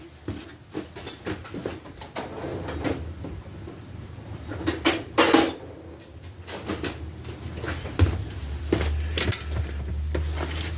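Metal tools clink and clatter as someone rummages through them for a wrench in a shop while reassembling the fuel system of a 1970 Harley-Davidson Leggero, a series of scattered knocks and sharp rattles with louder bursts midway.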